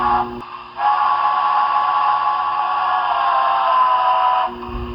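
A sustained, slightly shrill steam-style whistle from a Broadway Limited Paragon 3 HO scale Union Pacific Challenger model locomotive, its stock sound setting, blows for about four seconds, steady and tonal, with a short soft toot before it.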